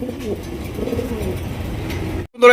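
Low, throaty cooing of pigeons at a pigeon sale repeating in soft rolling phrases, close by, with no voices.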